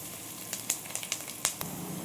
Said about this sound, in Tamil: நல்லா ப்ரௌனிஷ் ஸ்டேஜ் ஆகிற வரைக்கும் நல்லா வதக்கணும்.